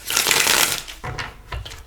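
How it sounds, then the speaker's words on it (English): A deck of tarot cards is shuffled up close with a quick riffling burst, then a few softer taps and shuffles as the cards settle. "And then I shuffle."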